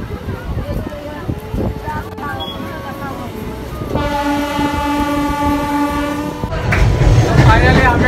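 A train pulls into a station, with a loud rumble of wagons, sustained blasts of the horn and rising clatter from the rolling cars, while people talk nearby.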